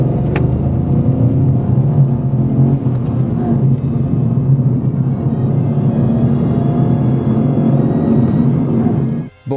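Renault Clio 5 with the new three-cylinder 1.0 TCe turbo engine revving, a loud, close, continuous engine drone rising and falling in pitch, cutting off abruptly near the end.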